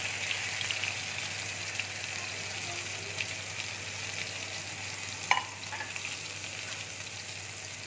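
Ground spices with turmeric frying in hot oil in a pan, a soft steady sizzle with one sharp utensil clatter partway through.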